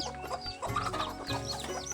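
Several chickens cluck and murmur close by, their short calls overlapping in a busy, continuous chatter.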